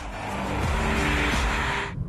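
A sixth-generation BMW 328i Touring wagon drives past, engine and tyre noise swelling to a steady close rush, then cutting off sharply at the end.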